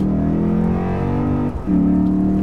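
Lexus IS F engine and exhaust accelerating hard, sounding as a loud, close mechanical growl. It climbs in pitch, breaks briefly at a quick gear change and then pulls again, with no talking.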